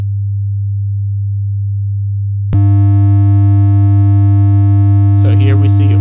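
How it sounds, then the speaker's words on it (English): A steady low oscillator tone hums alone, then abruptly gains a dense stack of distortion harmonics that buzz on continuously, with faint brief chirping sounds near the end. "And then I'm going to add some of my distortion into it."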